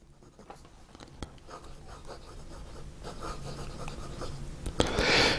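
A 1940s Eversharp Skyline fountain pen with a stiff nib writes on paper, giving soft, close scratching strokes that grow steadily louder, ending in a brief burst of brighter scratching.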